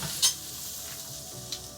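Onions stir-fry in a pan with a constant soft sizzle, and a couple of short stirring clinks rise briefly above the steady hiss.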